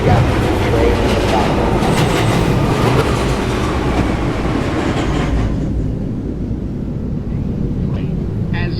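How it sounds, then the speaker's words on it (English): A New York subway shuttle train running between Grand Central and Lincoln Center gives a loud, steady rumble with rail clatter. The noise eases and thins toward the end as the car rolls on. "This is a Lincoln Center bound shuttle train."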